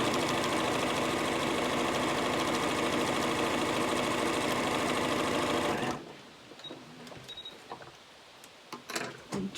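A sewing machine stitches a strip onto a quilt block with a muslin foundation. Its rapid, even mechanical chatter runs steadily for about six seconds and then stops, leaving faint handling noises and quiet room sound.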